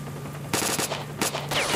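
Video game gunfire in S.T.A.L.K.E.R. Shadow of Chernobyl: after a quiet half second, several rapid automatic bursts crack out loud and close, separated by short gaps, with no talking.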